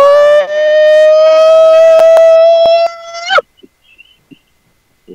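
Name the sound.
person imitating a Bigfoot call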